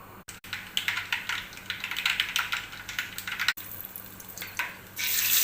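Mustard seeds splutter and pop in hot oil for tempering, a close run of irregular crackling bursts that swell and fade, with a steady hiss at the end.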